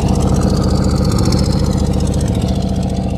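A V8 engine in a 60-year-old unrestored pickup truck rumbles through side pipes, a loud, close, lumpy idle with a fast pulsing exhaust beat that holds steady throughout.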